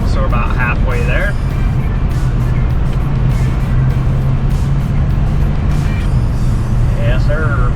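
Car cruising along a road in light rain: a loud, steady roar of road and engine noise throughout, with faint voices briefly rising above it.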